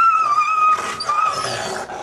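Wolves growl and whine in a drawn-out, tense aggressive exchange, close and fairly loud, with rising strained tones between low rumbles.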